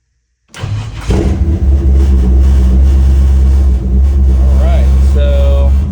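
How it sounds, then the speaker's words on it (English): Chevy C10 pickup truck engine cranking and catching, then settling into a loud, steady, rumbling idle close by, with a brief rev near the end. "now we're gonna start the truck"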